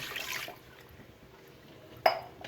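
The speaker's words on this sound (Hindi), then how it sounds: "अब जी इसमें हम डालेंगे 1 गिलास पानी का" Water from a glass poured over two kilograms of raw mutton in a pot for Pakistani karahi, a short liquid splash and slosh with a brief burst near the end.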